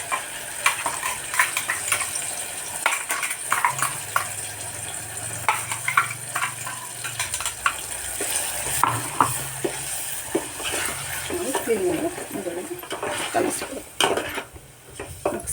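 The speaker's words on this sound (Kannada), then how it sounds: "ಆ ಮಸಾಲೆನ ನಾನು ನೋಡಿ ರುಬ್ಬಿಟ್ಕೊಂಡಿರೋವಂಥ ಮಿಕ್ಸಿ ಮಸಾಲೆನ ಹಾಕ್ತಾಯಿದ್ದೀನಿ" A ground paste of coconut, green chilli, garlic and coriander is stirred and fried in a pan for ridge gourd curry, with a soft sizzle under repeated spoon scrapes and clinks against the metal and a faint voice now and then.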